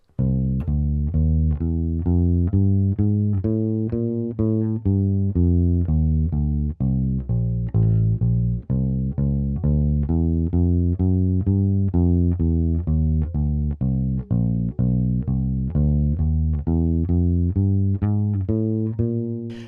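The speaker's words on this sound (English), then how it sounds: "let me play that whole bass line just in isolation so you can hear it." A bass guitar plays a jazz bass line alone, a steady walking stream of plucked notes at an even pulse, close and clear, with no other instruments.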